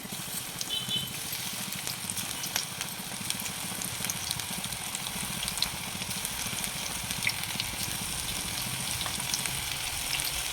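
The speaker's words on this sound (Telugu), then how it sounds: "మీడియంలో బ్రౌన్గా అయ్యే వరకు వేయించుకోవాలండి" Batter-coated cauliflower pieces deep-fry in hot oil for gobi 65, a constant dense sizzle with fine crackling and bubbling that holds steady at close range with no talk over it.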